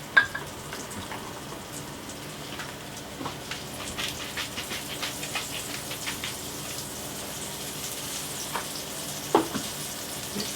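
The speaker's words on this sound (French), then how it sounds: "je vais les refaire revenir donc dans la poêle, dans la même poêle, avec un peu d'huile" Zucchini slices fry in oil in a frying pan, a steady close crackling sizzle with dense spitting pops throughout, a louder clatter at the start and another near the end, no voices.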